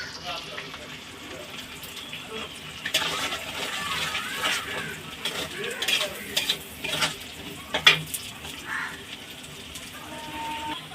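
Chili and onion sizzle in hot catla fish oil with a steady crackling fry, while a spoon stirs and scrapes the pan in irregular clicks; a person talks over the cooking throughout.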